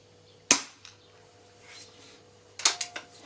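A Weihrauch HW97 air rifle's underlever is cocked: a sharp metallic clack, quiet mechanical shuffling, then a second cluster of quick clicks and clunks, close and alone.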